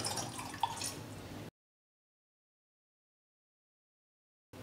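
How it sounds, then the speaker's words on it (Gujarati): Water is poured into a pan for a ginger herbal kadha, a brief splashing trickle of about a second and a half before the sound cuts to silence. "પેનની અંદર 2 કપ પાણી લઈશું।"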